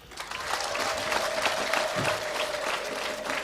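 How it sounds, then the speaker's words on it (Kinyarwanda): A church gathering of charismatic Catholics at a jubilee celebration breaks into sustained crowd clapping, dense and moderately distant, with a high wavering tone running through it, likely ululation. "tubaha impundu n'amashyi"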